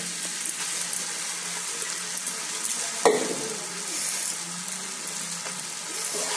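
Rice mixture stirred in a pan, heard as a steady scraping, sizzling swish that runs throughout, with one brief sharper clink near the middle.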